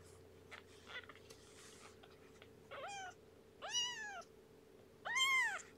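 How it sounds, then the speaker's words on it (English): Several kittens give high, rising-and-falling meows in separate bursts, growing louder and longer toward the end, over a steady low background hum. "it's good for Mama to leave them alone for a little bit while they're meowing and walking around"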